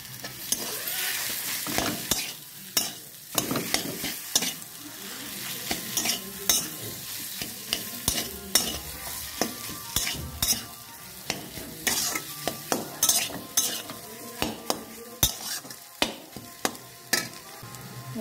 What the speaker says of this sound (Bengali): হালকা দিয়ে এবার নাড়বো